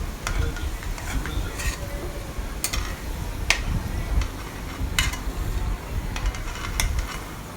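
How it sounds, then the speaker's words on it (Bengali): Banana pitha frying in oil until brown, a close, steady crackling sizzle with scattered sharp clicks and taps of a utensil against the pan, with some faint voice in the background. "এখানে একটু আমি একদম ভালো করে ব্রাউন কালার করে ভেজে নিচ্ছি"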